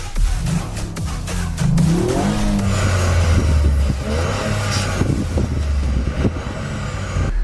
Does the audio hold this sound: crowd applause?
no